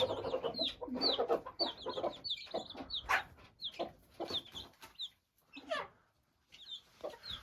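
Egg-laying hens cluck and squawk in short, irregular bursts, fairly close, with brief pauses between calls and no talking.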